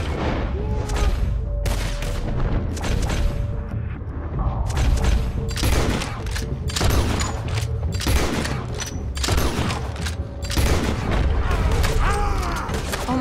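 Enemy gunfire in Red Dead Redemption 2 during the escape from Guarma: sharp, irregular shots crack one after another at close range, some echoing booms among them, over a rumbling backdrop with faint voices.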